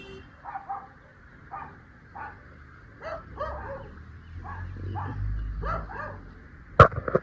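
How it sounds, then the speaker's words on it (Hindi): Neighbours' dogs bark from a distance in a countryside setting, several short separated bursts of barking and yips spread across the stretch, with a faint low rumble beneath and a sharp knock near the end. "बेचारे सारा दिन भौंकते रहते हैं हमारे कुत्तों को देख के।"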